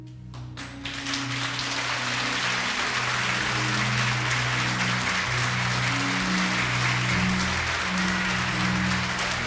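A church congregation on its feet applauding the Lord during a worship service. The clapping is loud and dense, swelling after the first second and then holding steady, with a strong sustained tone running underneath it.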